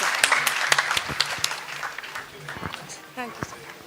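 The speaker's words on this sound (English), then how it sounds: "A huge round of applause for Dr. Chandy, please." Audience applause at a World Health Day celebration, a moderate round of clapping from a modest crowd with individual claps audible, fading toward the end as a voice speaks briefly.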